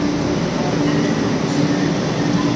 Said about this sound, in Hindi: मेट्रो आ ही रही है।